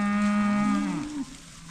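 A single long, loud moo from Angus beef cattle at autumn calf weaning, a close bellow that dips in pitch at the end and then stops, with no talking.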